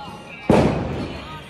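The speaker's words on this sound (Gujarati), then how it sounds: "ફટાકડા ફૂટે છે દિવાળીના." A single Diwali firecracker bursts outside at night with a sharp, loud bang, followed by a rumbling decay that fades over about a second against a quiet background.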